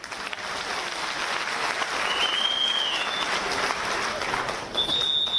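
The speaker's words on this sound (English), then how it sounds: "I didn't hear you clapping hands." A crowd clapping hands at a conference meeting, a thick, continuous roar of applause that swells slightly toward the middle. A couple of faint whistles cut through it.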